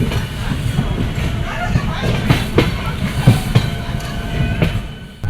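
Steady low rumble and rattle of a moving passenger train, heard from inside near the washroom, with occasional sharp clanks and knocks from the carriage running continuously throughout.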